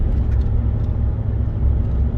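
2018 Chevrolet Silverado pickup with a Magnaflow muffler under moderate acceleration into traffic, a steady low engine and exhaust drone heard from inside the cab, with no voices.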